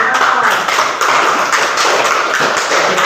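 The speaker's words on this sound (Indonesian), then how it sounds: "Alhamdulillah, beri tepuk tangan untuk" A classroom of students applauding together, steady brisk hand clapping filling the room at close range with no pause.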